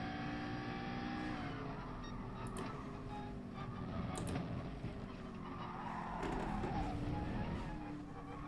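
A McLaren race car in Gran Turismo Sport runs hard over track curbs, its engine a steady, loud, high-pitched drone with brief rattly bursts and tire noise throughout.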